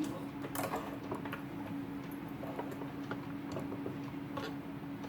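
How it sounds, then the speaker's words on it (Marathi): A sewing machine stitches a blouse with a steady mechanical hum and a quick run of light ticking and tapping throughout, close by and moderately quiet, with no clear speech. "याला आपल्याला शिलाई मारायची आहे"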